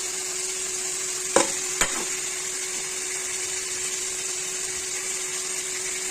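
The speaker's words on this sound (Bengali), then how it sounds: "এখন আলু আর আলুর সাথে মশলাটা সুন্দর করে ভাজতে হবে" Fried potatoes and spices frying in a pan send up a continuous sizzle with a faint steady hum, while two sharp knocks of a spoon against the pan come early on.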